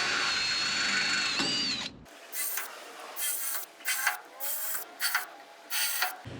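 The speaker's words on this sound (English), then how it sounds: "I'm going to drill them out with a 191 drill bit." A drill bit chewing out self-drilling screws on a mini camper, first a long high whining bore, then a series of short bursts separated by brief silences, close and fairly loud.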